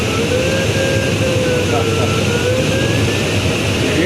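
A glider's variometer sounds a thin, wavering electronic tone that rises and falls while circling in lift, riding above a constant rush of wind noise in the cockpit.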